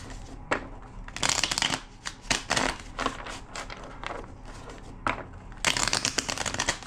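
A deck of tarot cards is shuffled in close, crisp bursts of riffling and slapping, several rounds separated by short pauses, with no talking.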